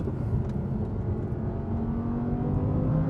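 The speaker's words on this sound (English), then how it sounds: "The way this thing revs." A mid-engine supercar with a manual gearbox holds a steady, loud engine drone close by, the revs rising slightly toward the end with no talk over it.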